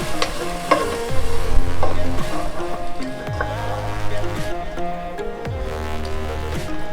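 Bread halwa with milk being stirred in a kadai, with repeated scraping strokes of the spoon against the pan over a steady soft bubbling, loud and close, with no talk.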